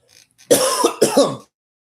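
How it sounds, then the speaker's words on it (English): Two harsh, dry coughs in quick succession, close and loud, followed by silence. "It's a dry cough."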